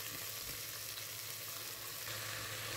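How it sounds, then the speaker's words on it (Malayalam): Carrots, potatoes and onions sautéing in a hot pan give a steady, close sizzle with faint stirring scrapes, continuous and even throughout, with no voices. "ക്യാരറ്റ് ഉരുളക്കിഴങ്ങ് അതുപോലെ തന്നെ ഉള്ളിയൊക്കെ ഉണ്ടല്ലോ, അപ്പോൾ അതുകൂടെ നമുക്ക് ഇതിലോട്ട് ഇട്ട് കൊടുത്തിട്ട് 2 മിനിറ്റ് ഒന്ന് വഴറ്റി കൊടുക്കുക."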